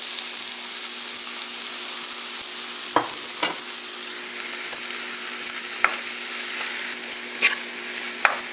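Vegetable dal being stirred in a pan after salt, chili powder and turmeric go in, a steady low sizzle with a few sharp scraping clinks of the spoon, no voices.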